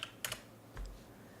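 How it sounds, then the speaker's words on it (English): A few quick keystrokes on a computer keyboard, a short burst of clicks followed by one more tap, close and fairly quiet. "Let's just type in MTG bulk."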